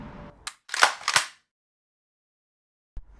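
Two close, sharp cracks from an Umarex UX Iconix PCP air rifle firing, each with a short bright snap and quick decay, followed by a long silence and a faint thump at the end.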